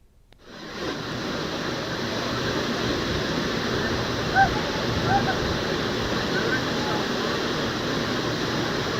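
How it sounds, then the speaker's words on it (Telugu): The Gundala waterfall drops 125 feet in dense forest, swollen by two days of rain. After a brief silent start it becomes a steady, loud roar of crashing water that holds unbroken to the end. "రెండు రోజులుగా కురుస్తున్న వర్షాలతో జలపాతంలో నీటి సవడలు సందడి చేస్తున్నాయి"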